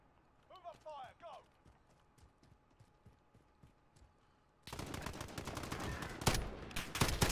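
Gunfire from a Modern Warfare 3v3 Gunfight match: after a quieter stretch with a short voice, a loud, dense run of sharp shots starts near the middle and continues to the end.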